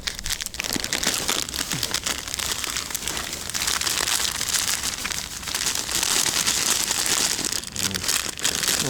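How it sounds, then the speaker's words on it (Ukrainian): Dry groundbait being mixed by hand for winter feeder fishing, a dense continuous crumbly rustling and crackling of particles, close and steady throughout without a pause. "Тепер можна замішати прикормку."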